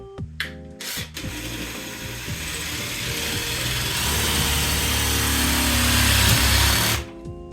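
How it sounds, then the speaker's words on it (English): A power drill whirs steadily into drywall, its motor pitch rising and straining as it bores through before stopping abruptly. "So when you drill the hole"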